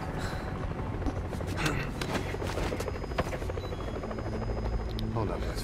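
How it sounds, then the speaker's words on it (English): A helicopter in Metal Gear Solid V The Phantom Pain drones with a steady rotor thrum beneath scattered gunfire and game effects, while a player talks over it. "that the same helicopter as before?"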